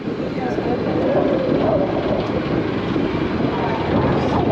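The Phoenix Rising roller coaster at Busch Gardens Tampa makes a steady, loud, broad roar as it flies by, lasting several seconds with background voices mixed in.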